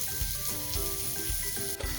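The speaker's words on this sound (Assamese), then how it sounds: "আৰু এই আটাইখিনি আকৌ এবাৰ ভালদৰে ভাজি ল'ম" Masala and spices frying in a pan for a paneer dish, giving a continuous close sizzle with faint stirring scrapes, steady and moderately quiet, with no voices.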